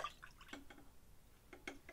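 A Manhattan cocktail is poured over big ice cubes in a glass, giving quiet, close trickling and dripping in short bursts with brief pauses between them.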